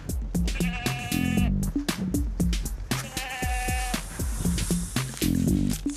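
Several goats on a goat farm bleat close by, overlapping wavering cries that come one after another with barely a pause between them.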